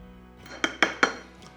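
Three quick metallic clinks in a row, a utensil knocking against a bowl while buttermilk biscuit ingredients are mixed, close and distinct over a quiet background with no talking.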